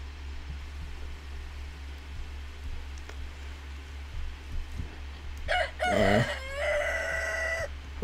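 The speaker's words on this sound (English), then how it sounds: "Oh, those chickens." Chickens in the video game Honey I Joined a Cult break into a loud burst of rooster-like crowing and clucking near the end, over a steady low background hum and faint game sounds.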